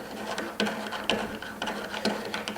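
A 1.5 inch slotted threaded insert being driven into a SawStop outfeed table, giving a steady run of mechanical ratcheting clicks with regular louder ticks about every half second, close and moderately loud.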